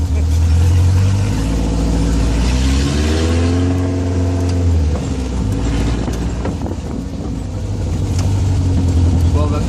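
A 1973 Alpine V85 1300 VC engine revs up and accelerates close by, pitch climbing then easing off and building again, loud throughout.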